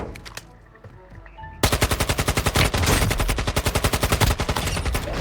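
Rapid automatic gunfire from an AK-style rifle in the mobile shooter game Warzone Mobile, long loud bursts of evenly spaced shots following a quieter stretch of softer game sounds.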